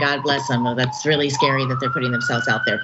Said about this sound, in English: But sorry for the sirens.